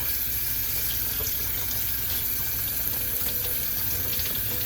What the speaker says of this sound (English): You're going to want to run cold water.